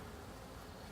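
Honey bees buzzing during a beehive inspection, a dense, continuous, faint hum of many insects close by, with no talk over it.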